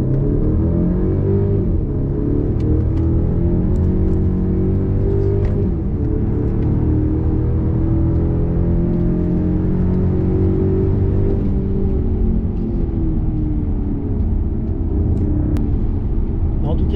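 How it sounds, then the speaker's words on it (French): A Mercedes CLE 200 four-cylinder petrol engine in sport mode gives a loud, continuous engine note that swells and rises in pitch as it revs, close by and sustained throughout. "le 4 cylindres essence, quand il est en position sport, chante beaucoup et a plutôt un bruit très sympa"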